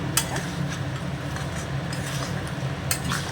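Mutton curry with meat masala is stirred in a pot, a low, steady rumble of stirring with a few light metallic clinks from the utensil.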